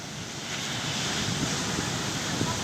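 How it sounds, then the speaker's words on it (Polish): Sea waves washing onto a beach in Vietnam, a steady broadband roar of surf with wind noise buffeting the microphone, continuous and fairly loud with no distinct breaks. "Tu mamy morze i proszę bardzo."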